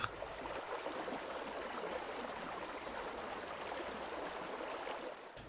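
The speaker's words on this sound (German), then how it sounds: "Die Sitter heißt dieser Fluss. Der mittlere Gebirgsfluss." Sitter, a mid-sized mountain river in Appenzell, flowing in a steady broadband rush of water that holds at an even, moderate level throughout, with no voices.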